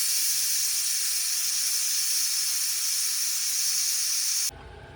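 A pressure cooker holding chicken for biryani lets out a loud, steady steam hiss that runs unbroken for several seconds, then cuts off abruptly.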